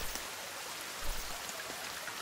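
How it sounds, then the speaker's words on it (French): Steady rain falls in the survival video game The Forest, a soft, continuous patter and hiss heard alone and fairly faint throughout. "Et cette pluie qui ne cesse pas, je suis dans la mouise."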